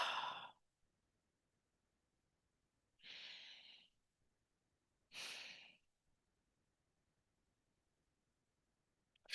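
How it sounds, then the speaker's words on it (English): Deep belly breathing during a guided meditation: three slow, breathy airflows spaced a couple of seconds apart, soft and close, with silence between them. "Then you can start to take some deeper breaths again"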